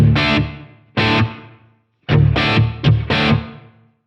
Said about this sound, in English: You'll hear it's a pretty subtle sounding reverb.